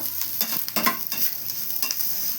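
Grated coconut sautés in a pan over low heat, giving a close, continuous sizzle with rhythmic scraping strokes of a stirring spoon.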